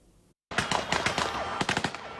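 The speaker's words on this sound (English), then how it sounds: "Volleys of gunfire scatter people in panic." Volleys of automatic gunfire at Kabul airport's main terminal during crowd control, a rapid burst of loud, close shots in quick succession following a brief silence.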